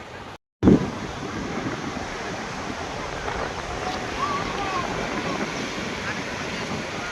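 Sea waves and surf roll steadily onto a beach in Vizag, a continuous broad wash with wind buffeting the microphone after a brief dropout at the start.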